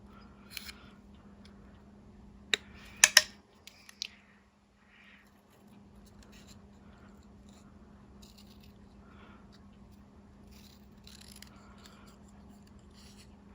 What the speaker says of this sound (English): let's go ahead and cut out my sentiment, and I'm just going to follow the shape here